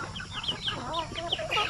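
Native chickens cluck in a brief busy flurry of overlapping calls from several birds at a range area, close and moderately loud, with no talk.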